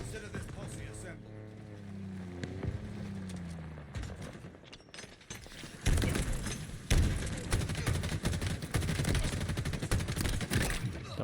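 Assault rifle fire in Halo Infinite Big Team Battle, loud dense bursts of rapid automatic shots filling the second half amid other battle noise, with someone talking over the start.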